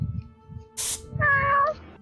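A house cat gives one clear, drawn-out meow close to the microphone after a short burst of hiss, with faint low sounds in the background.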